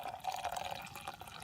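Campfire-brewed coffee is poured slowly from a pot into a cup, a close, continuous trickle of liquid with faint splashes and no talking.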